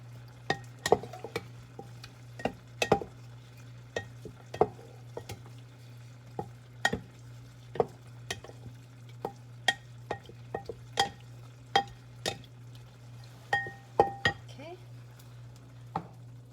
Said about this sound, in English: I'm going to go ahead and mix, toss it up a little bit here